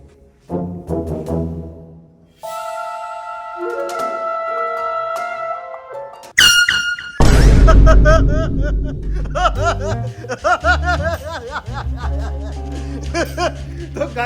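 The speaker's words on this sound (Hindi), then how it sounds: "मैंने अपना प्रोफेशनल एयर हॉर्न निकाला" Professional air horn blasted as a prank, sounding in loud sustained blares with sharp onsets amid music-like tones, laughter and chatter around it.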